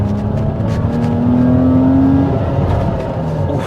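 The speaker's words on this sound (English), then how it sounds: "You know the sound, the swooshes and the supercharger." A supercharged Bufori Geneva engine pulls hard from inside the cabin, a rising supercharger whine over a deep, steady roar.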